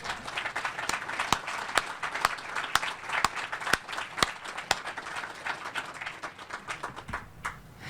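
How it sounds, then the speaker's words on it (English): Audience applause at the Neil O'Leary Building ribbon cutting ceremony, a steady crowd clapping with sharp individual claps standing out, sustained for several seconds and tapering off at the end. "I want a round of applause for this amazing leader."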